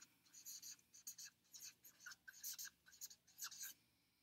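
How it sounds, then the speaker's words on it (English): Writing a date by hand on paper: soft, close scratching strokes come in quick irregular bursts, quiet and alone in an otherwise hushed room. "You can see I'm going to write the date at the top."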